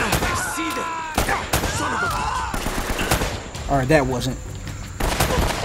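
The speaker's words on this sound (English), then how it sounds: "Stop shooting." Gunfire in the video game Uncharted: Drake's Fortune crackles in sharp, repeated bursts and single shots, loud and close, mixed with someone talking over the action.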